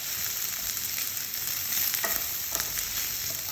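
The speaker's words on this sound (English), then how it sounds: "Okay, and we're just going to let that cook down to get a bit soft." Onions frying in a wide-based pot for a curry, a continuous loud sizzle with a few scraping stirs of a spoon breaking through, close by and with no talking.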